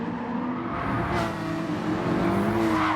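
Porsche and BMW race cars in Gran Turismo 7 roar side by side, a steady high engine drone with shifting revs and a passing whoosh, loud and continuous with no voices.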